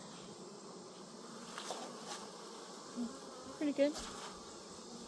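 A faint, steady buzz of many honeybees in an opened beehive fills the background, with a person briefly speaking over it.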